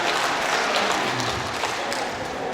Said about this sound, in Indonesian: Oke, tepuk tangan dong, 11 tahun terakhir.